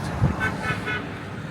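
Road traffic circling a roundabout in Kampong Chhnang, Cambodia, with a short car horn toot standing out over a steady mid-distance rumble of passing vehicles.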